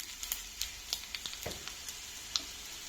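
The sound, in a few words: frying dal ingredients in a pan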